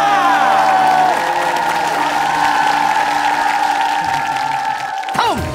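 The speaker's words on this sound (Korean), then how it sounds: "꿈을 향해서 열심히 달려가고 있는 오늘의 주인공에게 큰 박수가" Studio audience applause and cheering on a Korean TV variety show, steady crowd clapping with whoops, under music or tonal sounds, fading slightly toward the end.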